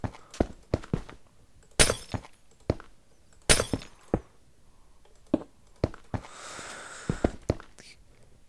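Glass blocks are placed one after another in Minecraft, giving sharp clicky taps and thunks in an irregular rhythm, with a couple of louder clinks and a brief hissing stretch, no talk.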